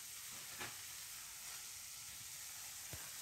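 Small kefir pancakes (oladyi) fry in a hot pan, giving a steady, soft sizzling hiss with a few faint pops and crackles and no talking.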